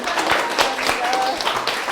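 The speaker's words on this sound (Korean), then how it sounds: "뜨거운 강의를 해주신 이담선 배우님께 다시 한번 큰 박수를 보내드립니다" A lecture audience applauds: a dense, steady patter of many hands clapping at even loudness throughout, with a voice audible over it.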